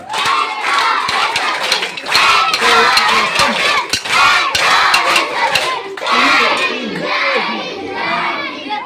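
A group at a Scout workshop claps in unison without sticks, sharp rhythmic claps mixed with loud shouting and crowd voices, close and energetic throughout.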